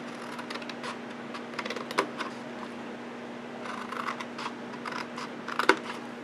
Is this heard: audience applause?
no